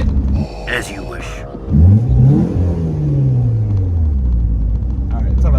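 A second-generation Lancia Delta's 130-horsepower 1.8 engine revs up hard, its pitch sweeping upward through the gears in a loud, close growl, with a brief voice near the start.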